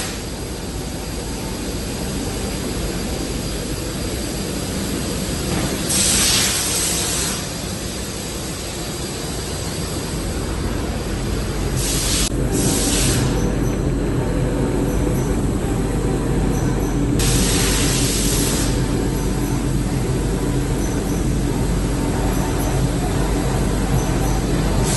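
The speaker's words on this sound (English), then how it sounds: "it enters this machine, which is the Scheffler, which is an oven, which bakes everything into the cabinet" Industrial curing oven baking sprayed kitchen cabinet doors in a cabinet workshop, a loud continuous roar and hiss with steady machine drone, brief brighter hissing surges now and then.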